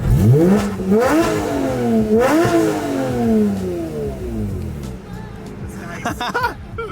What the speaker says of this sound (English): since the car's on and warm, I might as well give you guys a few revs